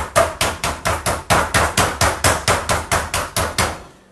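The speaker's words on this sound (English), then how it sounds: "the first couple hits aren't going to seem like they're doing anything, but then you're going to start busting the proteins down" A meat mallet pounds chicken breast flat for chicken parmesan: about fourteen loud, sharp, evenly spaced thuds in quick succession, close and dry, with no talking over them.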